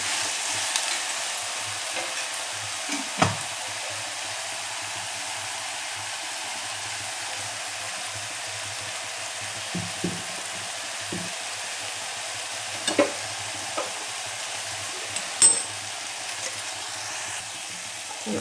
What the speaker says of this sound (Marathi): कांदा छान परतून घ्यायचा आपल्याला.